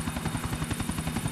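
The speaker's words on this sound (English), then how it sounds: "He just has to land a helicopter and then pick me up" Helicopter in GTA IV: The Ballad of Gay Tony, rapid rhythmic rotor thumping close and steady throughout a short stretch, with no talk.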